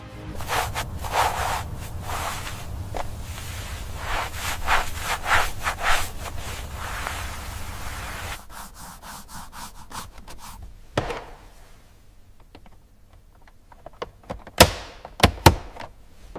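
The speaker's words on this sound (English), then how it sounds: "We sand evenly, then use a tack cloth to remove all contaminants." Abrasive sanding on the body panels of a Nissan GTR under restoration, with steady rubbing strokes for several seconds, then quieter scraping and a few sharp knocks near the end.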